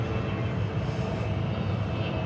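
An Aerologic freighter aircraft passing near Atlanta Hartsfield-Jackson airport on a hazy day, a steady broad engine rumble holding evenly throughout with no voices.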